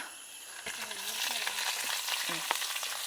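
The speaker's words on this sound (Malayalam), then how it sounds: "ഇനി നമുക്കിതിലേക്ക് ഈ സമയത്ത് കുറച്ച് കറിവേപ്പില ഇട്ട് കൊടുക്കാം" Curry leaves tossed into browned onions for a Kerala sardine curry crackle and sizzle close up, a steady frying hiss with a few brief tonal chirps over it.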